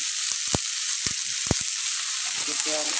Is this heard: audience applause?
no